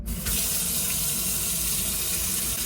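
Tap water runs into a sink as the basin is filled for washing clothes by hand. The flow is steady and continuous, a close, even gush of water with no voices.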